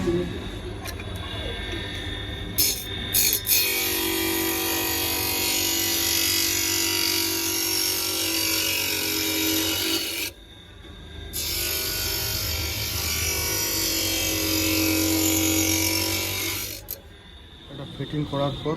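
An optical lens edging machine grinds spectacle lenses to fit their frames, whirring loud and steady for long stretches and stopping briefly near the middle and end, with clicks around the starts and stops.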